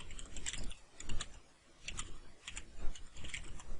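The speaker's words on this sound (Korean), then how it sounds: "자막을 입력을 해봅니다." Keys tapped on a computer keyboard to enter subtitle text, a quiet run of irregular clicks in small bursts, close by with no voices.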